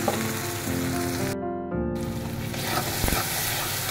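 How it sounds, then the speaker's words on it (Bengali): Onion paste fries in oil with cinnamon and cardamom for an egg korma, giving a steady close sizzle with stirring scrapes throughout and no talking. "আমার পেঁয়াজটা ভাজা ভাজা হয়ে গেছে দেখুন"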